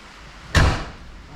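A 1965 Ford Falcon hood swings shut on new struts, a single solid thump with a short metallic ring that quickly fades, close by and otherwise quiet.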